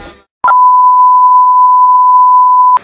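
A phone gives one long, steady electronic beep lasting a couple of seconds. It is loud and close, with no talk over it, and cuts off sharply at the end.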